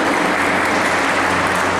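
Audience applause at a public gathering in the Khasi Hills region of Meghalaya: steady, dense clapping fills the whole moment at close range, with no voices over it.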